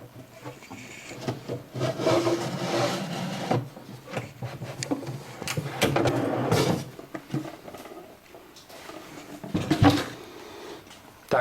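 Wooden piece being fitted onto a bathroom cabinet drawer to transfer pen marks, giving irregular close wood knocks, rubbing and scraping bursts with quiet pauses between.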